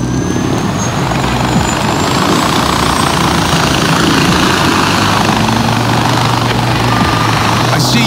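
A helicopter in the Far Cry 4 video game flies steadily nearby, its rotor and engine making a loud, continuous drone that stays even throughout with no talk over it.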